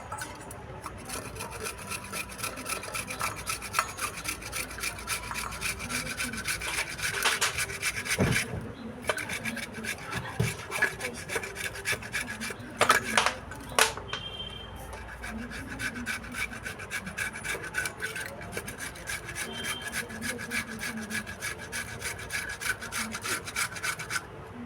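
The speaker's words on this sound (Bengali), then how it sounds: "এবারে এই আলুটা আমি ঘষে নেব।" Potato being rubbed against a grater, a steady rasping scrape repeated over and over at close range, with brief pauses between strokes and no talking.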